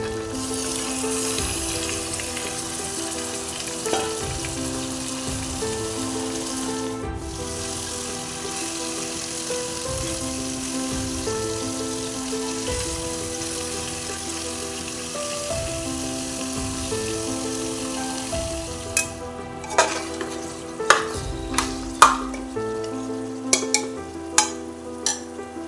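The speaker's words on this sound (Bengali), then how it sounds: "ম্যারিনেট করে রাখা মাটনটা দিয়ে দেবো" Marinated mutton with ginger paste, turmeric and coriander frying in mustard oil, stirred steadily, giving a continuous sizzle with scraping strokes under music, and sharper clinks of a spoon against the pot near the end.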